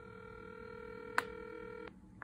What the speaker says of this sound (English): play a ringback tone.